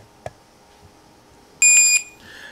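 Barcode scanner giving a code-match alert: a short, loud electronic beep near the end, after a small click, in a quiet room.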